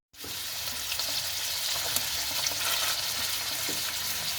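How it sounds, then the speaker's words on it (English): Beef sears in olive oil in a hot pan over high heat, giving a loud, dense, continuous sizzle that starts abruptly and holds steady with faint crackles. Nobody speaks. "You want the fire quite high at this point to sear the meat quickly."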